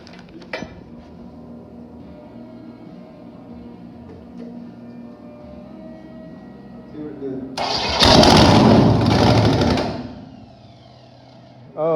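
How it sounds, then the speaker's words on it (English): A V8 engine in a 1958 Apache truck rumbles and idles steadily, then revs up loudly for a couple of seconds before settling back down; faint background sounds throughout. "we ran this engine and it really ran good"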